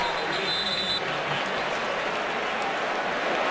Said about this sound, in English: Jacob Shum getting a rare round of applause.